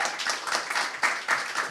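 A studio audience at a comedy game show claps to vote for a team, a sustained patter of many hands with a few louder surges, close and lively.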